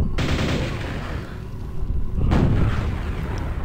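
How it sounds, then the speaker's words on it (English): Rocket launcher fire and impacts in the classic shooter Quake come as a dense, loud barrage of booming blasts, with a second burst of explosions partway through. "I'm gonna use that rocket launcher."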